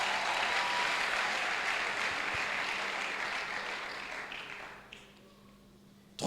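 A church congregation applauds to acclaim the Lord, a dense wash of clapping that gradually fades out, followed by a short pause and a sudden sharp knock at the end.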